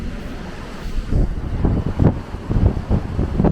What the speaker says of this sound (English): Pretty windy though.